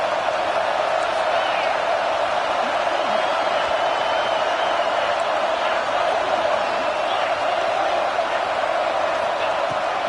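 A steady, loud roar from a large college football stadium crowd at a Nebraska game, cheering continuously as a broad wash of noise with faint whoops poking through.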